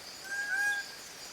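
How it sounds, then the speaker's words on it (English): Lively trilling bird call in a rain forest, heard faintly at a distance as a single short thin phrase over a soft, steady ambient hiss. "In the distance, you hear the lively trilling sound of a bird."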